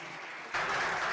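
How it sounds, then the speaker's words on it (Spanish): An audience at an academic forum on legal defense of the state suddenly breaks into loud, sustained applause partway through, dense clapping filling the rest of the moment. "Un fuerte aplauso."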